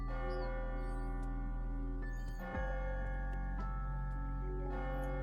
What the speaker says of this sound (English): Is that the bell? The clock struck 12.